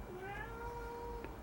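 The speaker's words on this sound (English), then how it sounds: "She's just running around and meowing." A cat gives one drawn-out, fairly clear meow indoors over a steady background hum.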